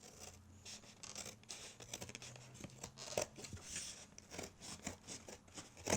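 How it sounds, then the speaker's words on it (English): Scissors snipping through a cardboard egg carton, cutting down its spine: a steady run of close, dry crunching and scratching cuts with small crinkles, no speech. "take your scissors, and you just want to cut down this spine"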